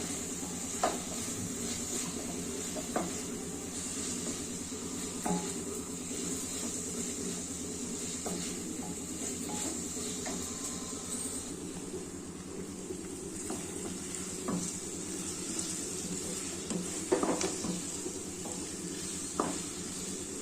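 Onions fry in oil for poha pulihora, a steady, soft sizzle that holds throughout, broken by occasional light stirring clicks of a spoon against the pan.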